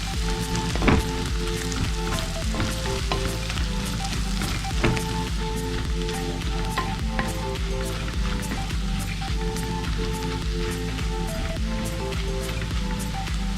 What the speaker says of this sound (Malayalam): നന്നായിട്ട് ഇതിനെ ഒന്ന് ഇളക്കി യോജിപ്പിച്ച് ഇതിൻ്റെ ആ പച്ചമണക്ക് മാറുന്ന വരെ നമുക്ക് വഴറ്റിയെടുക്കാം.